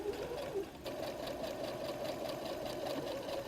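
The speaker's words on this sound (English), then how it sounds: "So I just start to sew, back stitch, keep that needle right on your black line there" A sewing machine runs in a steady continuous burst, stitching a pocket onto a messenger bag, its rapid needle rhythm close and clear with no talking.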